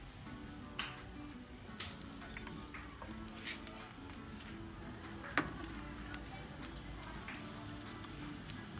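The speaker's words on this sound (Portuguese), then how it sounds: "agora eu vou fritar" Pork skin frying in hot oil until it puffs into crackling, a quiet constant sizzle with scattered light pops and one sharp crack midway, no voices.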